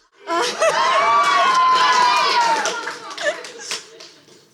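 Wedding reception guests in a hotel ballroom break into loud, sustained cheering and clapping, with shouts and whoops rising over the crowd for several seconds before easing off into scattered applause.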